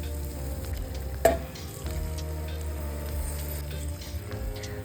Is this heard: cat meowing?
no